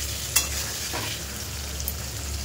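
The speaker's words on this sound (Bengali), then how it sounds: "তো পনিরটা ভাজা হচ্ছে।" Cubes of paneer fry in a pan, giving a steady soft sizzle with a couple of sharp clinks of stirring, close and alone without talk.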